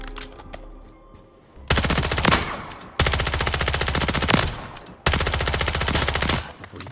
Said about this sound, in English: The recoil on this gun is ass.